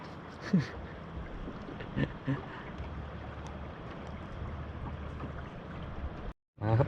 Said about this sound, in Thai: ฟังเสียงน้ำไหลกระทบเรือ